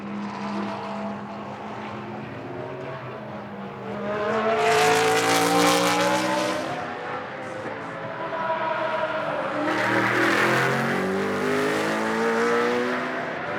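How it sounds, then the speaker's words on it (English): A BMW Z4 GT race car engine lapping the track during free practice in Moscow, tonal engine note rising and falling through gear changes, swelling loud as it passes close twice with no talk over it. "Wonderful to just listen to that BMW Z4 engine."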